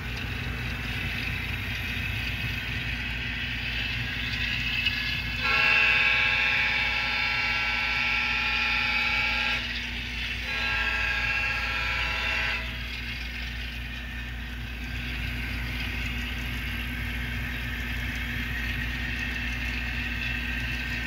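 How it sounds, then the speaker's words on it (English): A model train locomotive on a JMRI layout idles as it rolls downhill, a steady mechanical hum throughout, with a brighter tonal whine that rises for several seconds in the middle and then settles back. "Now you hear the engine's all idled down. It's going downhill."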